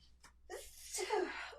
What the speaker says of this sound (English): I'm going to totally sneeze.